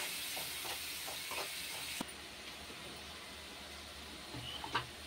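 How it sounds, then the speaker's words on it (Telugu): Tomato puree frying in a pan for a raw cashew paneer curry, a soft continuous hiss and sizzle close by with occasional faint bubbling pops, steady and without voices. "ఈ టమోటా మంచిగా ఫ్రై అయ్యి దగ్గరగా గుజ్జుగా వచ్చేంత వరకు ఇలానే ఉంచుకోవాలి"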